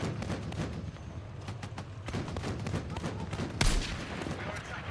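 Rapid gunfire in Battlefield 6 on the New Sobek City map crackles in repeated bursts, with one sharp, louder blast near the end.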